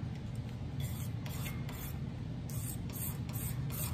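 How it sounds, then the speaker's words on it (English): A razor blade scrapes old finish off a wooden auto body shaping hammer handle in a series of short, rhythmic rasping strokes over a steady low background hum, close and clear with no talking. "and use this razor blade to scrape most of this crap off"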